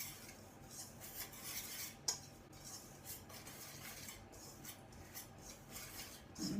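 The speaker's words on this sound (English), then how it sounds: "just whisk all these ingredients together and make sure they're all mixed in carefully" Dressing ingredients for a roast veggie tray bake being whisked, soft rhythmic metallic clinks and scrapes against a bowl, quiet and close, with a sharper knock partway through.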